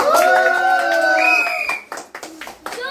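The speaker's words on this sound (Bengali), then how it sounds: "চলো কৃষ্ণরে আমরা সবে একটু হাততালি দিয়া উৎসাহ দেই।" Children clap to cheer on a boy named Krishna during a ball-into-basket balancing challenge, with a few sharp, scattered claps following a stretch of high, sustained voices.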